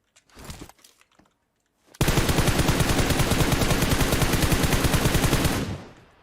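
Gunfire in the PUBG Mobile video game, attributed to a Kar98k rifle. A few scattered shots come first, then a long, loud, rapid burst of automatic fire lasts several seconds before cutting off.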